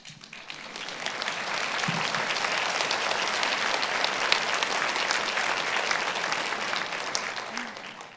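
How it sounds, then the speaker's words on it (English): Audience applause fills a women's peace conference hall, a dense, steady clapping from a large crowd that swells in and holds loud for about eight seconds. "Let's give her a big round of applause."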